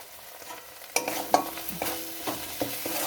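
Ground coriander and cumin with spices frying in a pan, starting from near quiet and then a spoon stirring in several short scraping strokes over a close, soft sizzle, with no talking.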